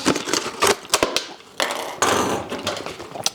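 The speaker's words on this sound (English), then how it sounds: "Just simply cut off the bottom of the bottle." A hobby knife cuts off the bottom of a plastic bottle, making close, irregular crackling snaps and scraping bursts in quick succession with short pauses between.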